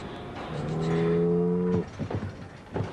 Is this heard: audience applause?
no